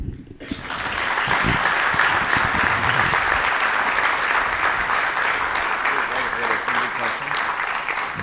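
A conference audience applauds a speaker on website security, steady dense clapping rising quickly after a brief quiet start and holding strong throughout, with some speech faintly under it.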